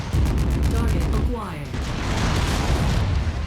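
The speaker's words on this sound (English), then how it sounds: "We're taking a lot of gunfire from that other location." Dense, booming gunfire in MechWarrior 5: Mercenaries rattles in rapid bursts, loud and continuous, with heavy low rumbles and a muffled voice faintly underneath.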